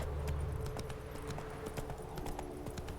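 Horse hooves clip-clop at a steady trot in the video game The Witcher 3, a continuous rhythmic series of hoof strikes under faint ambient sound.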